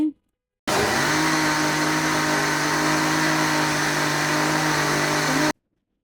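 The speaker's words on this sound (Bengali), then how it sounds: "তারপর আবারও তেল দিয়ে ব্লেন্ড করে নিচ্ছি।" A kitchen blender whirs loudly and steadily for about five seconds as it blends oil into eggless homemade mayonnaise, starting and stopping abruptly.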